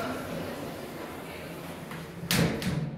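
A shopping-centre lift's sliding door thuds shut near the end, a short mechanical bump after steady low hum and faint background murmur.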